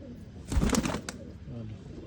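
Pigeons at a large pigeon sale in Tarn Taran, Punjab, coo in short low bursts close by, with a brief flutter and crowd murmur behind them.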